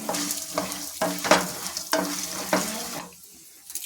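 Mustard seeds, peanuts, chana dal and urad dal crackle in hot oil for a lemon rice tempering, a loud, close sizzle broken by rhythmic scraping stirs before it suddenly drops away.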